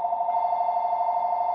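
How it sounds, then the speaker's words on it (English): A phone rings with a steady electronic tone, continuous and fairly loud, heard close by in a quiet room with no talking over it. "And my phone's ringing."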